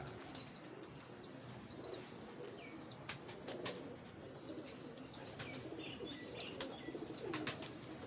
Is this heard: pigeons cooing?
yes